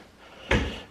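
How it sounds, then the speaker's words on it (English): A hotel room drawer shuts with a single sharp, close wooden knock, then falls quiet, with no talk. "A couple drawers."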